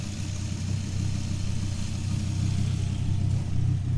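A car engine idles steadily after running for some time, its coolant recently topped up with fresh antifreeze, producing a continuous low rumble with faint higher hiss, close and unchanging, with no voices.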